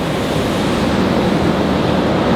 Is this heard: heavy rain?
yes